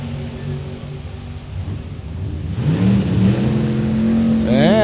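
A 68 Camaro with a Steve Schmidt racing engine and a 2015 Mopar hot rod launch side by side in a drag race at Indy, engines rising from a rumble into loud, climbing revs.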